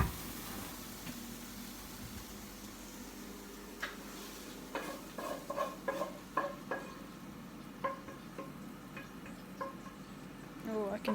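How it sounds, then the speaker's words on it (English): Salmon frying in a pan gives a quiet, steady sizzle with light stirring clicks and utensil taps scattered through the middle and end. "Oh, I can hear the salmon sizzling."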